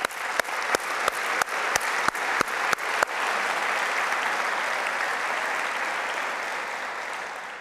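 University convocation audience at Cal State Fullerton breaks into applause: about ten sharp, evenly spaced rhythmic claps ring out first, then a full, dense round of clapping swells and holds steadily, slowly easing off.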